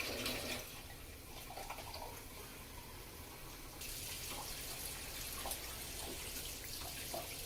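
Steady rush of water running from a tap into a cooking pot for soup, a continuous hiss-like pour that grows slightly louder partway through, with no talking.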